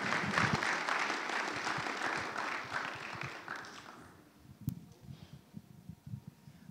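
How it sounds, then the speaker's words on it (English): A summer camp audience applauds as campers are called up on stage, a dense burst of clapping for about four seconds that thins into scattered claps and a few voices. "Let's give them a big round of applause."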